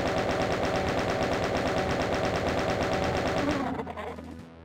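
The chaingun in the Doom video game fires a long, rapid, unbroken stream of loud mechanical shots, then cuts off abruptly near the end.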